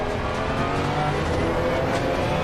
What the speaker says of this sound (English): this is the new Ferrari that was released by ACC today